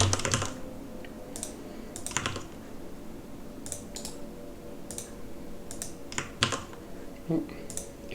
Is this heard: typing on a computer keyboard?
yes